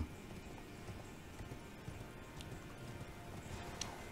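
Horse hooves clip-clop in the Elden Ring video game, a steady, moderately faint stream of rhythmic footfalls with a few sharper knocks over a dense game soundscape.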